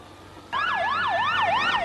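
An ambulance siren, heard after a train bombing attack in Madrid, starts abruptly and wails in a rapid, rising and falling pattern, loud and close, with no talk over it.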